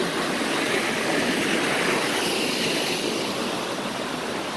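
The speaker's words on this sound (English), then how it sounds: "Oh, waterfall." A waterfall at abandoned ruins in Jamaica gives off a constant, even rush of falling water, a broad unbroken hiss with no voices over it.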